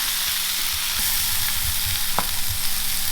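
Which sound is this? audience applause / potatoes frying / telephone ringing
potatoes frying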